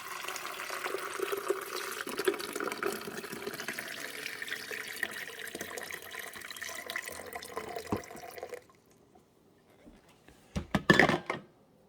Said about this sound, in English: Now with the Cuisinart, I have to add the water each time I want to brew coffee.